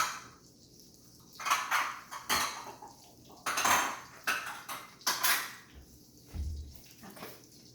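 In a kitchen, a cup is picked out from among dishes, giving a series of clinking and clattering ceramic and cutlery knocks in quiet, irregular bursts with short pauses between.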